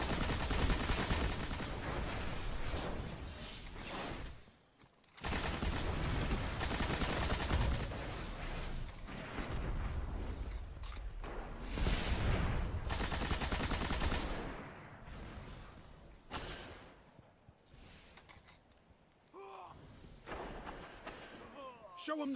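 A Suros Regime auto rifle fires in Destiny in long, loud, rapid bursts mixed with other game combat noise, with brief lulls and a voice speaking over parts of it.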